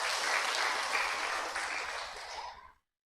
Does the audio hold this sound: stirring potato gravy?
no